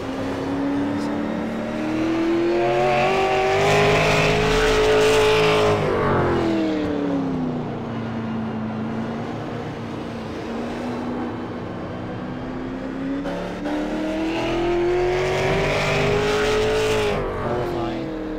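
Race cars roar through practice laps at Martinsville in a racing video game, a continuous loud engine drone that rises and falls in pitch as cars accelerate and pass, with faint talk underneath.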